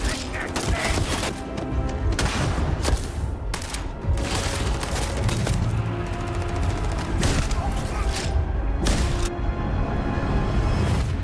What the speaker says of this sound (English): So we're gonna do some shooting